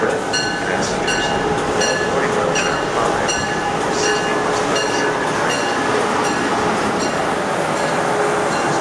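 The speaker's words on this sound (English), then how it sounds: "We're boarding the train." Amtrak train at a station platform, a loud continuous rumble with rhythmic clicking and faint high squeals, while people talk under the noise.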